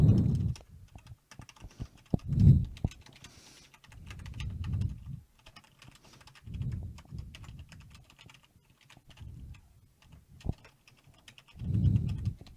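Bursts of typing on a computer keyboard come in clusters of quick clicks, with quiet gaps between them, close and clear and with no one talking.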